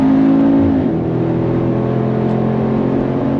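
Mercedes AMG G63 G-Wagon engine with side-exiting exhaust, a loud, deep, steady drone with a brief drop in pitch, heard from inside the vehicle while driving.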